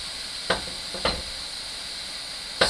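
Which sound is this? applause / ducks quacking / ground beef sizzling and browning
ground beef sizzling and browning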